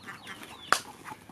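A free-range chicken on a farm in Thailand lets out one sharp, brief squawk among faint farmyard murmurs, with scattered soft clucks nearby.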